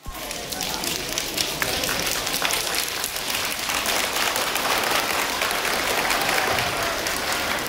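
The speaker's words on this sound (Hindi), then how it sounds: "जोरदार तालियां फॉर सर" Loud applause for a retiring teacher at a GHSS school farewell, a continuous rain-like roar of many hands clapping for nearly eight seconds at steady intensity, with voices underneath.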